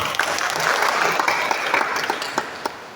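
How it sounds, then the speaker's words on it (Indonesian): Applause from an audience at a village anti-corruption outreach meeting for newly appointed neighbourhood heads, a steady close burst of clapping that fades slightly toward the end. "Tepuk tangan untuk desa Kenaipan."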